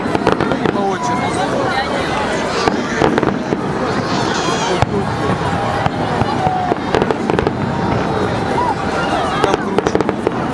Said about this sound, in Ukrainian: И вон еще салют.